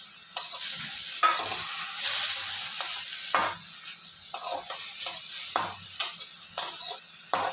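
Mint leaves sautéing in a pan for chutney, a continuous sizzle broken by repeated scraping stirs of a spatula against the pan, fairly close, with no voices.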